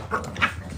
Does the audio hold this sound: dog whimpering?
yes